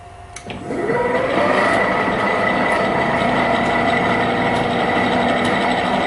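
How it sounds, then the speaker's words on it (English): A drill press motor on a 3 kW Huanyang VFD spins up and settles into a loud, steady whirring hum with a faint mechanical rattle, running continuously with no talk. "I've been plugging in the drill press here to do some testing."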